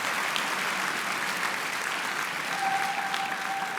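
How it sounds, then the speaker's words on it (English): Audience applause fills a convocation hall, a dense steady wash of many hands clapping at even loudness throughout, with no talk over it. "let's clap for that one"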